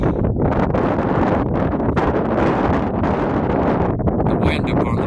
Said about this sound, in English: The wind up on the peak, on the summit, is brutal.